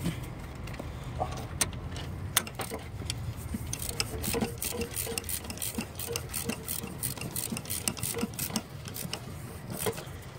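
A wrench clicks in quick, uneven bursts while tightening the alternator on a 1996 Honda Accord V6. The metallic ticks sit close over low garage rumble, with no talking.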